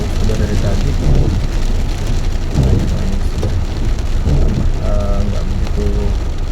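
Rain pours steadily near a toll road exit in Bekasi Timur during flooding, a dense constant wash of noise with low rumbles beneath and voices talking intermittently over it.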